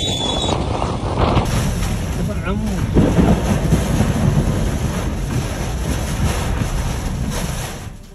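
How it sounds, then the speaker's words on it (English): Thunder rumbles across a steady downpour of heavy rain during a storm over Mecca, a dense continuous roar with wind buffeting the microphone throughout. "Thunderclouds roared over the skies of Mecca and Jeddah"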